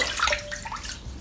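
Cold water running from a tap for a wet shave with a shavette, a steady close splashing flow filling a basin, with no talking.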